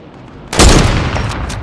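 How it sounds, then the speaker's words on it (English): A single sharp sniper rifle shot in the video game Fortnite, loud and close, with a sudden blast that decays briefly into a ringing tail. "I sniped the shit out of that kid."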